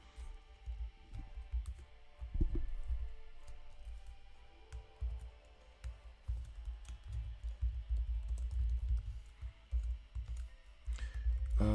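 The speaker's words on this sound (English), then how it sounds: "This newfangled technology, aka typing." Someone types on a computer keyboard indoors, irregular bursts of close, crisp key clicks with short pauses between runs over a low background hum, and no talking.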